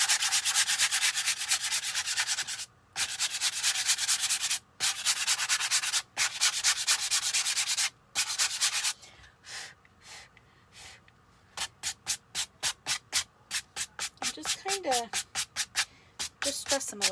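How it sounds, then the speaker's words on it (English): A small sanding block rubs over a wooden St Patrick's Day craft piece to distress it, first in long steady scraping strokes with brief pauses, then in quick, rhythmic back-and-forth strokes, close and loud. "I'm going to grab my little sand block here. And I'm going to just go over some of these."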